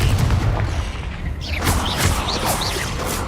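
Confringo fire spell in Hogwarts Legacy bursts as a heavy booming blast, followed by crackling, whooshing magical effects in a short sequence.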